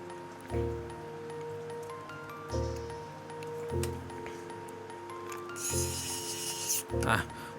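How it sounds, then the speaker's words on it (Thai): An electric screwdriver drives a small screw into a Yashica Electro 35 camera, producing several short whirring bursts with ratcheting and scraping tones between them, close and alone. "เทคนิคผมก็จะเอาน็อต ใส่ที่หัวไขควงก่อนนะครับ แล้วก็ค่อยไขเข้าไป ไขควงไฟฟ้าก็จะสบายขึ้นหน่อยนะครับ"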